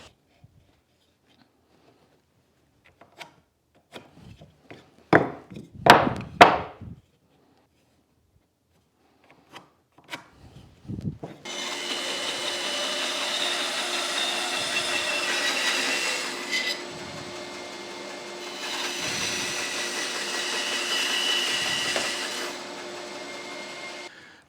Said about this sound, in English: So now onto the bandsaw, and we got to notch the back of them